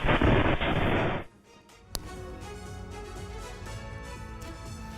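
A loud, dense roar from a blast at night cuts off abruptly, followed by a sharp crack and then a lower, rumbling ambient hum, captured on CCTV.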